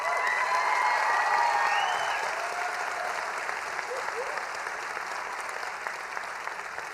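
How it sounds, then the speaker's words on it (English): A commencement crowd at Northland's East Grand Forks campus applauds the faculty with loud, sustained, dense clapping that tapers slightly as it goes on, while faint voices and a few sounds from the hall show through. "Let's give them a round of applause."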